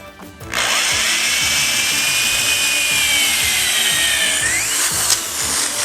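A power drill driving screws into recycled pallet wood whirs steadily at close range for several seconds, its whine rising in pitch before it stops.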